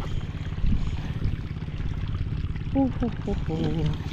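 Water flows through a rice-field irrigation channel with a continuous rushing, pouring wash, while a voice speaks briefly near the end.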